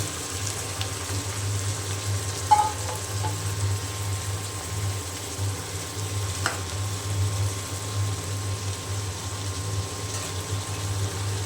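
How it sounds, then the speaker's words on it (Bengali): Onion and green chili frying in oil in a home kitchen pan, with cabbage and potato added, giving a steady sizzle with stirring and light clatter, close and continuous with no talking. "তেল, কাঁচামরিচ, পেঁয়াজ ভেজে নিচ্ছি"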